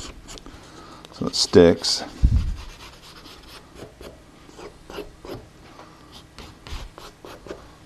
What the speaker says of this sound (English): we're going to take our bone folder and really work that down